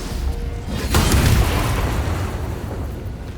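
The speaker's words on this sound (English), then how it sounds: "Booming Blade." A Booming Blade spell hit lands in Baldur's Gate 3 with a heavy rumbling boom about a second in, over dense continuous battle noise that stays loud throughout.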